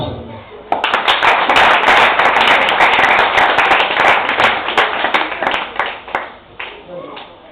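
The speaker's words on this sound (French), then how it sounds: "on va donner un dernier coup d'acclamation" A church congregation applauds at the end of a sermon segment, dense sustained clapping from many hands that swells after the first second and then thins into scattered claps toward the end.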